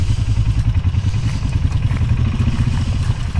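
A lifted truck on new tires crawls along in low-range four-wheel drive, its engine a loud, close, steady low rumble with a rapid rhythmic throb and some clatter throughout.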